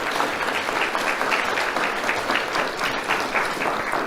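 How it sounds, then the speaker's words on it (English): A large audience at an awards ceremony claps together in a dense, sustained round of applause, even and fairly loud from start to finish with no one speaking over it. "So make sure you give yourselves a round of applause right now."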